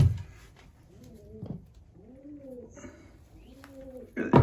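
Racing pigeons cooing in a loft, several soft rolling coos repeating close by, with a brief flutter or scuffle at the start and end.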